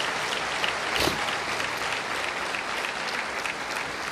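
A church congregation applauds steadily through a Sunday evening service, a dense, even wash of many hands clapping at moderate distance, with a slight swell near the start.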